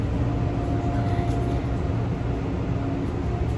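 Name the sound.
Edmonton LRT light rail train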